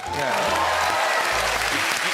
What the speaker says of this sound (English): Just clapping it.